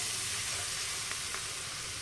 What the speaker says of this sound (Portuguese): acrescentando e mexendo, ó